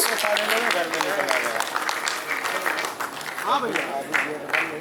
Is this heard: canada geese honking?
no